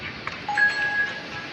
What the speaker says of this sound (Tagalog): Okay, ring the bell.